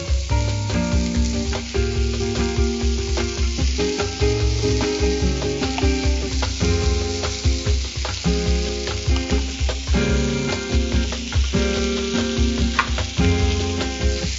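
Chicken tikka frying in oil sends up a loud, continuous close sizzle with crackling and occasional stirring scrapes throughout, no voices.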